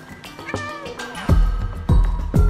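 In the video game Stray, a cat gives several loud, drawn-out meows and caterwauls, close and prominent, with deep bass thumps and game sounds underneath.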